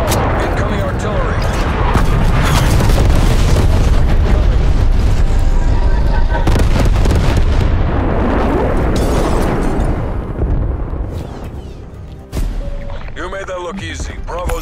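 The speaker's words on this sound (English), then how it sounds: "Hostile artillery targeting active. Incoming artillery." Incoming artillery explosions rumble and boom almost without pause in Call of Duty Black Ops Cold War, loud and heavy, with a voice speaking over the barrage.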